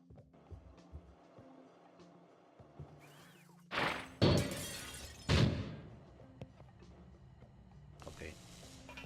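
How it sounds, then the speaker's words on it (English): Glass shatters in the puzzle video game Quantum Conundrum, several loud crashing bursts in quick succession over a quiet background hum, with brief clicks before and after. "Unfortunately, the breaking of this glass is a necessary evil."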